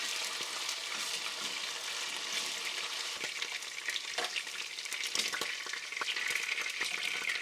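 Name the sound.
beef sautéing in a pan until browned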